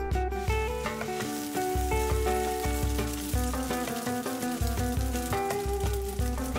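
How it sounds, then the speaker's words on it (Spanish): Huauzontle patties fry in a pan of hot oil with a continuous sizzling crackle beneath prominent, steady background music. "Y las pongo a freír en un sartén con aceite caliente"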